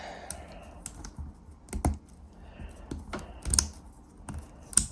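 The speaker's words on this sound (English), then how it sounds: "you can transform these guys back into tape mode" Plastic clicks and snaps from a Transformers Studio Series Leader Class Soundwave figure being converted from boombox to tape mode, scattered irregular clacks, close and fairly quiet, with a few sharper pops.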